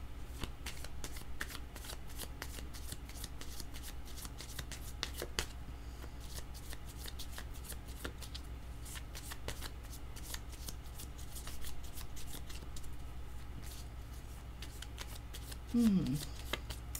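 Tarot cards are shuffled by hand in quick, crisp riffling bursts, a soft close flutter that continues steadily, with a faint click of a card near the end.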